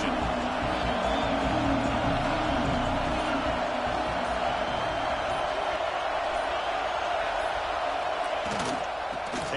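A steady roar of a football stadium crowd at a college game against A&M fills the whole stretch, dense and continuous with a few swells of cheering.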